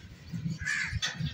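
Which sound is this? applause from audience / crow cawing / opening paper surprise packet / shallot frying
crow cawing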